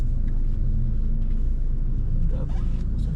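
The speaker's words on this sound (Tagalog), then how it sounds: "Dami sasakyan." Busy city street traffic in Caloocan, with a dense, continuous low rumble of cars and engines close by and a few faint voices mixed in.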